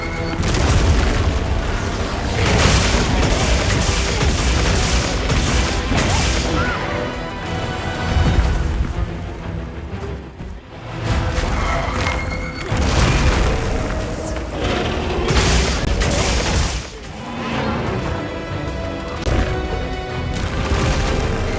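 Loud, dense gunfire and booming impacts from a gun weapon in Monster Hunter Wilds, with repeated heavy blasts and crashes layered over game music and effects, nearly continuous with a few brief lulls.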